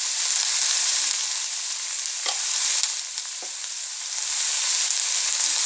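Capsicum and onion frying in a pan, a steady loud sizzle throughout with a couple of faint stirring knocks, no talking.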